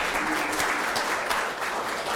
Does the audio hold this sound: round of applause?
yes